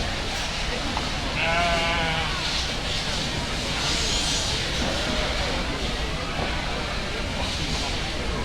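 Sheep bleat at a market lamb show in an arena, a wavering call rising over a steady crowd and hall murmur.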